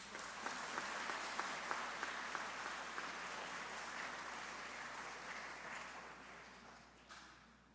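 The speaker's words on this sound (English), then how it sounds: "Let's have one more big round of applause for our elementary school age category winners." Applause from an audience at a student art competition award ceremony, crisp individual claps on top of a steady wash that slowly fades and tapers off near the end, fairly distant and soft.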